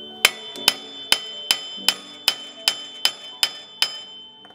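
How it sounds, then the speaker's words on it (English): A hammer taps on a stuck car part during a cheap repair, ten sharp metallic strikes at a steady, even rhythm, close and clear with no talking. "The videos that I've seen say that you just need to tap it with a hammer."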